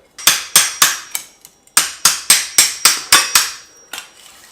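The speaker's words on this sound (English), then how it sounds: "I'm going to have to just tap it with a hammer to the spanner" A hammer taps a spanner, tightening a part on a retro Specialized Rockhopper mountain bike, in a quick series of sharp, ringing metal strikes, about a dozen in all with a short pause partway, close and loud.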